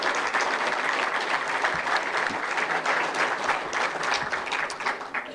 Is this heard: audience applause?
yes